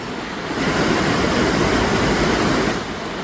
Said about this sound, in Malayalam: നമ്മളിപ്പോൾ അങ്ങനെ കല്ലാർ വാട്ടർഫോൾസ് എത്തിയിരിക്കുകയാണ്